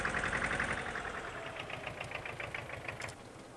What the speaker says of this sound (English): These tractors seem awfully loud today